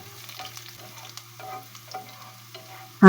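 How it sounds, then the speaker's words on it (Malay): Onions fry in a pan until browned, with a steady soft sizzle and occasional light crackles and stirring clinks, ending in a sudden loud burst of noise. "Jom kita goreng bawang tu hingga warna dia perang-perang ya"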